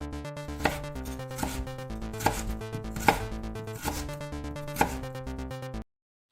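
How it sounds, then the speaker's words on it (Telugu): Radish and tomatoes chopped finely with a knife on a cutting board, a series of about six sharp, close knocks over steady kitchen background, ending abruptly. "ముల్లంగికి తొక్కు తీసి ముల్లంగి, టమోటాలు సన్నగా తరుక్కోవాలి"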